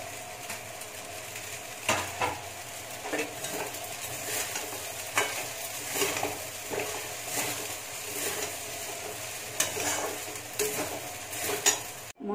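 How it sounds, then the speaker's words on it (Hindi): A spoon stirring fresh coriander leaves into sewai upma in a pan, repeated scraping strokes and soft clatters over a faint sizzle, close and moderately loud, with no speech. "अब मैं ऊपर से धनिया पत्ती मिला रही हूँ।"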